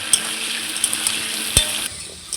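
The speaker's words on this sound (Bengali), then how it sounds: "আমি আলুগুলো ভেজে নিচ্ছি।" Potatoes frying in oil give a steady bright sizzle close up, punctuated by a few sharp taps of a utensil against the pan, with the hiss easing slightly near the end.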